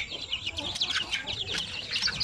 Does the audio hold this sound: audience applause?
no